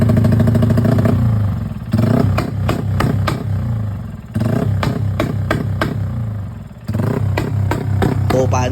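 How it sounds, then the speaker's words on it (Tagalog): A Yamaha Sniper motorcycle engine being tuned idles close by, then is revved hard in three separate bursts, each rising to a loud sputtering roar before dropping back, with a voice talking between the revs. "inuunti-unti ng itono ni Master itong motor natin si supladong Sniper"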